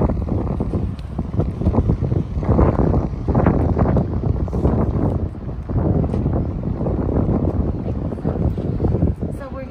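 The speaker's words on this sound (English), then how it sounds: "Ooh, look at the wind." Gusty wind blows across the microphone outdoors in an upscale city street, a loud, rumbling buffeting that rises and falls throughout while someone talks over it.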